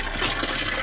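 Water pours from a spout at an outdoor bathing place, a brief, steady, close rushing splash.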